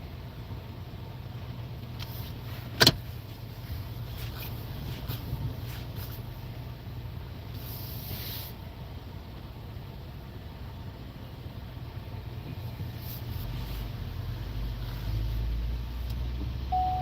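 A 2018 Ford Explorer drives along a road, giving a quiet, steady low rumble of engine and tires throughout, with one sharp click early on and no talking.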